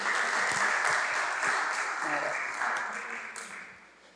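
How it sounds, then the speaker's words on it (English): An audience at a community meeting applauds steadily, the clapping swelling and then fading away over a few seconds, with a voice faintly heard beneath it. "So give yourselves a round of applause for being here tonight."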